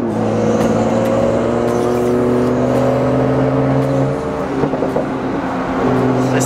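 BMW M2 with an N55 engine accelerating on a drive, a loud, steady in-cabin engine drone with rising harmonic tones throughout and a brief dip and shift near the end.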